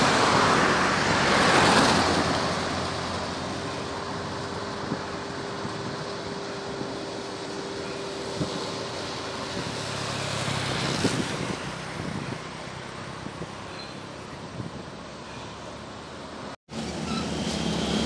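A large bus rumbles past in road traffic, loudest early on then fading into a steady roadway hum with engine noise.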